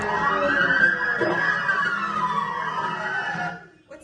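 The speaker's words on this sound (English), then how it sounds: "Ambulance." A loud ambulance siren wails outdoors in repeated sweeping tones, steady and close, before cutting off abruptly near the end.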